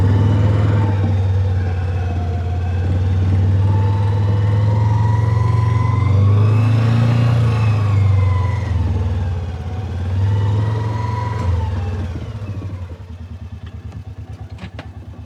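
A Gator utility vehicle drives across a farm among cows, its engine droning and rising and falling in pitch with clattering over rough ground, then settling to a lower idle near the end.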